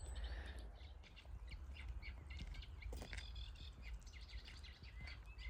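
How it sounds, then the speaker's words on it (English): Faint, busy chatter of a singing reed warbler with scratchy, squawking notes repeating in the distance over a low background rumble. "Don't know if you can pick that sound up in the background, but it's a reed warbler."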